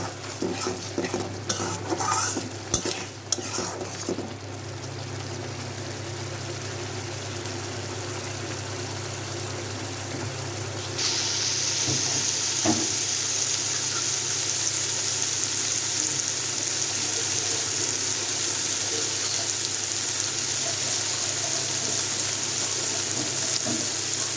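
Masala spice paste sizzles and fries in a pan for a boal fish bhuna curry, with a spoon stirring and scraping in the first seconds, then a steady, louder hiss of frying carries on alone without talk.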